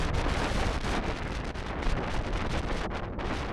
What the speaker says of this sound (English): The wind is blowing harshly